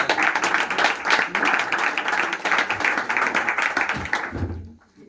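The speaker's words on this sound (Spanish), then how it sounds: "Un aplauso." Audience applauding at a Spanish poetry collection launch, a dense sustained wash of many hands clapping that carries on steadily, then tapers off and fades out near the end.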